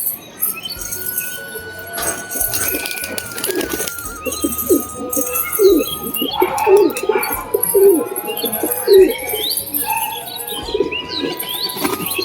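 Domestic Giribaz pigeons coo in a series of soft, repeated calls close by, mixed with light chirps and flapping, with no one talking.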